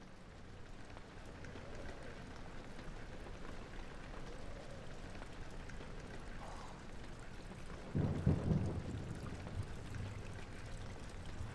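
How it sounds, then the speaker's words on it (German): A thunderstorm in the video game Amnesia: The Dark Descent brings steady rain hissing throughout, broken by a low, rumbling swell of thunder partway through before the rain settles again. "Gewitter? In Neuss?"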